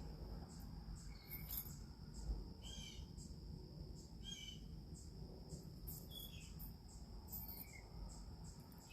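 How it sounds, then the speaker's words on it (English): Outdoors, a steady insect trill runs throughout while birds call intermittently in short, repeated chirps at a moderate distance. No one speaks. "Hear the birds?"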